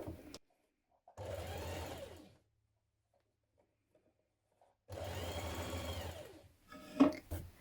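A sewing machine hems the bottom of a dress sleeve in two steady runs of stitching, each lasting about a second or more, separated by quiet, followed by a few soft handling clicks.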